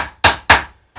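Hammer blows driving nails into a wooden national or commercial beehive base, with three sharp, close, resonant knocks in quick succession, the last one lighter.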